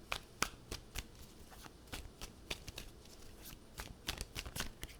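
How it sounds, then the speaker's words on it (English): A tarot deck is shuffled by hand in quick, repeated riffles and shuffles, producing a steady series of crisp card flutters at close range with no talking. "Pisces, like, quit shuffling."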